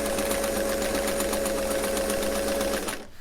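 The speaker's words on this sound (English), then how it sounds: "feeding it through, holding it with my hands to guide it so that we'll have a straight line of stitching" A sewing machine runs steadily, stitching a straight stay-stitch line along a single piece of fabric guided by hand, a loud continuous whir that stops abruptly near the end.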